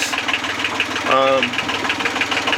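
A sailboat's engine idles steadily just after being switched on during a solo Atlantic crossing, a low continuous thrum with a brief tonal sound rising over it.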